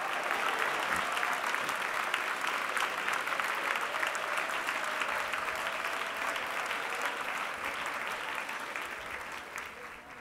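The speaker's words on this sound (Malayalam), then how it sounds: "ഉറപ്പുള്ളവർ കൈയടിച്ച് ദൈവത്തിന് സ്തോത്രം" A church congregation claps together in praise during a sermon, sustained even applause from a large group that fades slightly toward the end, with a faint voice or two underneath.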